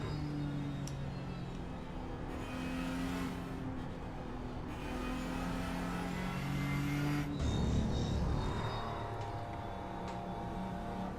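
A race car engine drones steadily on the Lime Rock circuit in a racing game, a constant mid-level hum with subtle shifts in pitch and no voices.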